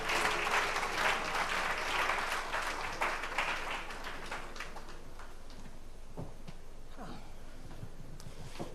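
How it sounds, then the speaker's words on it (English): Audience applause at a gathering celebrating the COA mixture relaunch, dense clapping from many hands that starts strong and gradually thins into scattered claps, alone with no talking. "I think she deserves another round of applause."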